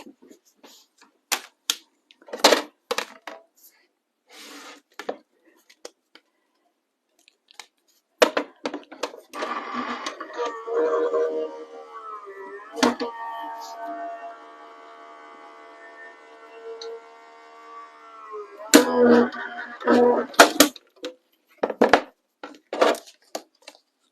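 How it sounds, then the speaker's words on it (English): Die cutting machine running a stamped card background through, a steady mechanical whir in the middle after scattered clicks and taps of handling; someone talks intermittently around it. "I am just going to die cut this very quickly."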